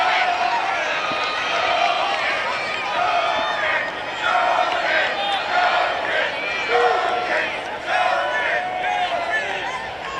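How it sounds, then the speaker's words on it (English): The Penn student section chants the Junkin cheer at an NCAA first-round lacrosse game against Army, a loud rhythmic crowd roar that swells and falls steadily across the stadium. "Gotta love the Penn student section with the Junkin cheer there."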